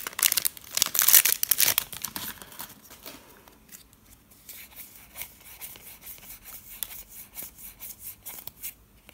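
Crinkling plastic wrapper of a Magic: The Gathering Kaladesh booster pack being torn open, a burst of close crackling and tearing followed by softer rustling and rubbing.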